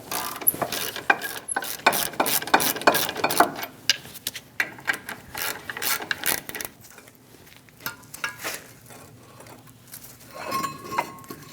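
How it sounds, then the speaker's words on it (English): A ratchet fitted with a 21mm socket loosens the two front brake caliper bolts on a 2001-2006 Chevrolet Silverado, giving close, rapid bursts of clicking ratchet strokes with metallic clinks between them. "Using a 21mm socket, remove the 2 caliper bolts."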